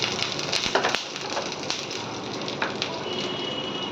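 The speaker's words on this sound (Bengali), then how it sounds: "কড়াতে সর্ষের তেল দিয়েছি, এবারে দিয়ে দেবো রসুন কুচি, শুকনো লঙ্কা" Chopped garlic and dried red chillies frying in hot mustard oil in a kadai, a steady close crackling sizzle with scattered sharp pops throughout.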